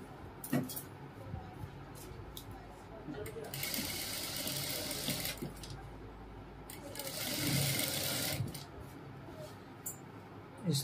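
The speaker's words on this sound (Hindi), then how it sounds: "इस तरह से पूरे पे हम सिलाई मार लेंगे।" A sewing machine stitches fabric for a cap dress in two sustained whirring runs with pauses between them, fairly close, with faint handling noises around them.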